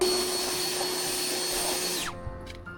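An electric blower tried out outdoors runs as a loud, steady roaring whoosh for about two seconds, then spins down quickly, leaving faint knocks and handling noises.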